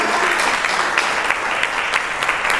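Dense, steady audience applause at a beauty bar awards ceremony, loud and close, a continuous wash of many hands clapping throughout with no voices standing out.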